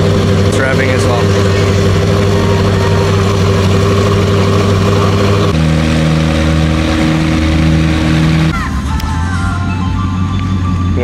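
Koenigsegg Jesko hypercar engine running loud and close, a strong droning tone that shifts pitch in steps as the revs change, with a brief higher burst near the end.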